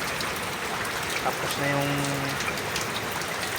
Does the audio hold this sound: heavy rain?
yes